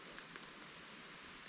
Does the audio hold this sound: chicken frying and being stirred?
no